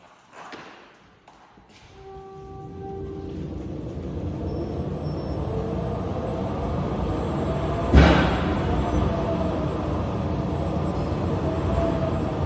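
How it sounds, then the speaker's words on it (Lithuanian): An observatory telescope dome rotates on its track, giving a steady, loud mechanical rumble that rises after a quiet start, with a single heavy thump partway through and continuous grinding underneath. "bet galim pažiūrėti, kaip juda kupolas"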